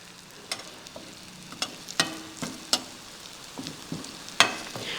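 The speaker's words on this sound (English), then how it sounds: "The garlic is also getting cooked." Garlic and fish frying in oil over a very low flame, Kerala style, a soft continuous sizzle punctuated by several sharp pops and spatula taps, close with no voices.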